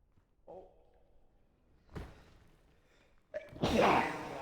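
A single sharp sneeze bursts out near the end after quieter breathy sounds and a soft thump, loud and close to the microphone with no talking.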